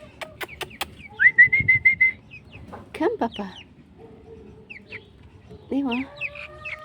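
Backyard chickens clucking and calling intermittently nearby, mixed with a few whistles and a brief spoken phrase, fairly quiet with gaps between bursts.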